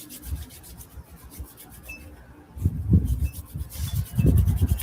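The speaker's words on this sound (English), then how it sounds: "Rub the palms together." Palms of the hands rubbed briskly together during a sunrise Kundalini yoga session, a soft rasping swish that comes in faint bursts, then grows louder and fuller in two stronger passes toward the end.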